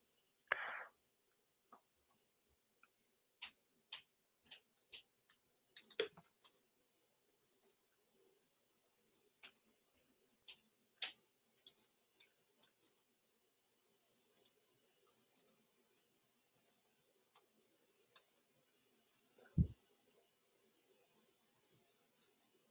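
Sparse, crisp keystrokes and clicks from typing a company name into a search box, irregular bursts with pauses and one dull thump, close and quiet in a silent room.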